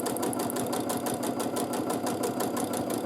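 Sewing machine doing free motion quilting of extended paisley loops, a loud, close, continuous rapid stitching drone with a fast, regular pulsing rhythm throughout.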